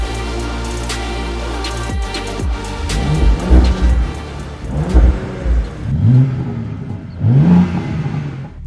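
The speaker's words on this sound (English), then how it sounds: "the only way we're going to settle this is to do a drag race" A BMW M3 Competition and an Audi RS4 Avant launch in a drag race, engines loud and close, revving hard and climbing through several rising gear pulls with a steady roar underneath.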